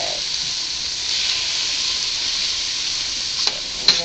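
Minestrone soup vegetables being stirred in a pot, giving a steady broad sizzling hiss throughout with a couple of brief sharper scrapes near the end, no voices.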